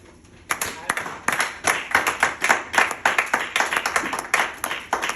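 A congregation claps in acclamation during a church service, with sharp irregular bursts of hand claps in a quick uneven rhythm, loud and close after a quiet start.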